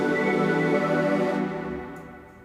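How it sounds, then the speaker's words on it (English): A bright, shimmering synth chord rings out with glassy overtones, then slowly fades away on its own. "the next thing I'm gonna add is a kind of like a crystal sound"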